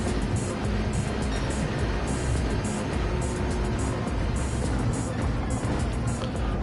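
Gr.3 race cars in Gran Turismo 7 run side by side on the Tokyo Expressway, their engines a loud, continuous roar that never lets up, with no talk over it.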